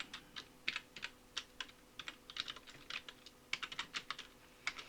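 Computer keyboard typing for a PowerPoint exercise: quick, light key clicks in irregular bursts, close and quiet, with short pauses between runs of keystrokes.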